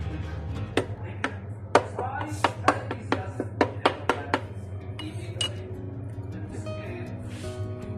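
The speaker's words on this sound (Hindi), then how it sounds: "कांटे के साथ या फिर चम्मच के साथ इस तरह इसके निशान बनाओ" A fork or spoon taps and scrapes pizza dough inside a pizza maker, a run of sharp metallic clicks close up over a low background hum, then quieter.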